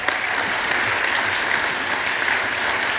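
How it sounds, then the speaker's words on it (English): Steady round of applause from a university symposium audience honouring a student, an even, continuous wash of many hands clapping at moderate loudness throughout. "Please give her a round of applause."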